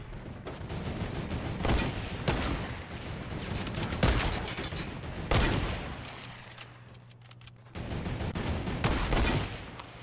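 Mounted turret fire in a video game, loud sustained bursts of rapid gunfire with several sharp heavy blasts punctuating the volley and a short lull near the end before the shooting resumes.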